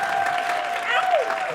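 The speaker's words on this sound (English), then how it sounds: "I'd rather get that kind of applause after the reading" Brief audience applause at a fan convention panel, a short burst of clapping from the crowd with a voice sounding over it.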